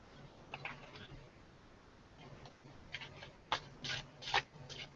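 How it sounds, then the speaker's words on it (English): A deck of cards is shuffled close by in a few soft, papery bursts of riffling and rubbing, getting a little louder toward the end, with no talking. "I'm going to shuffle up my deck"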